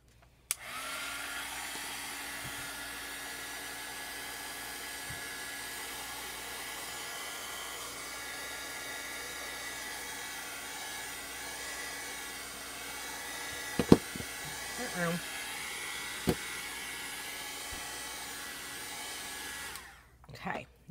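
A hair dryer runs for about twenty seconds in a steady, loud whir while drying chalk paste on a craft project, with a few brief clicks and knocks near the end before it switches off.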